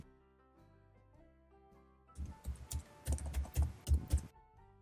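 Rapid bursts of typing on a computer keyboard, crisp close clicks that start after a quiet opening and stop abruptly near the end.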